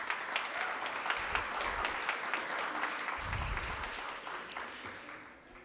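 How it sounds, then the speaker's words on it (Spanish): Lecture audience applauding for a tax-principles talk at a university conference, dense steady clapping from a crowd filling the hall, continuous throughout and tapering slightly at the end. "Démosle un fuerte aplauso, por favor."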